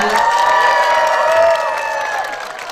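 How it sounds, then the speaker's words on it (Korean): A ceremony crowd at a national heritage guardians' day event held at Eunhaesa temple in Yeongcheon applauds, dense clapping with cheering voices and some tonal sounds, fairly loud and sustained, tapering slightly toward the end. "늘봉학교 회원분들 박수 부탁드리겠습니다"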